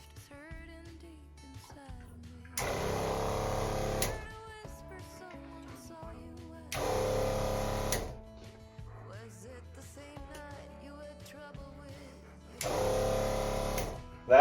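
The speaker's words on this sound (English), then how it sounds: "I got my pump connected." A 12 volt water pump for an off-grid shower switches on three times, each run a steady, close mechanical whir lasting about a second and a half, separated by quieter pauses with faint background sounds.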